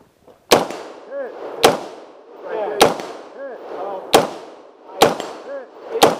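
Five sharp rifle shots ring out at roughly one-second intervals, each loud and close with a short echoing tail, at a shooting range where people practise zeroing their rifles.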